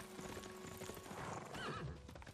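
Horse neighing and clip-clopping hooves in the strategy video game Civilization VI: a short, faint whinny rising over a soft bed of trotting hoofbeats and game ambience.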